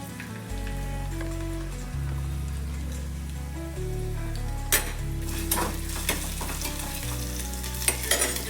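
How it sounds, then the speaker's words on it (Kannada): Onion dropped into hot oil in a pan for a paneer chapati roll, a loud close crackling sizzle like rain on a surface, with a few stirring knocks toward the end. "ಈಗ ಒಂದು ಈರುಳ್ಳಿ ಹಾಕೋತಾ ಇದ್ದೀನಿ."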